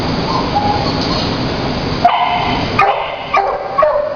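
Dogs in an animal shelter bark and yip with a few sharp, mid-distance calls over a steady busy background din, the barks standing out clearly toward the end.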